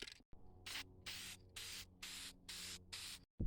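A light coat of plastic adhesion promoter is sprayed onto a car door panel during restoration, heard as about six short, even aerosol hisses separated by brief silent gaps.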